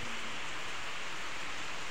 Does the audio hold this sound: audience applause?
no